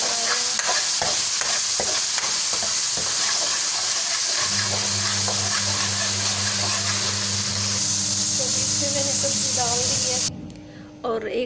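Curry (salan) sizzles and hisses in a pan while being stirred, with scraping and clinking from the spoon, a steady frying hiss throughout and a low hum joining partway, close up.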